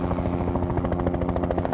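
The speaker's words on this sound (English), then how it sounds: "Helicopter coming in," A helicopter flies in close and loud, its rotor blades beating out a fast, rhythmic chop over a continuous engine whine.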